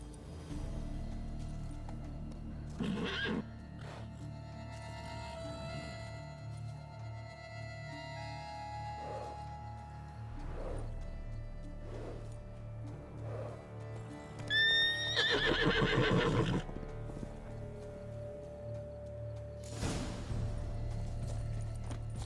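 Geralt's horse Roach in The Witcher 3 neighs and whinnies repeatedly amid clip-clopping hooves, with a loud, close whinny standing out against steady game background sound.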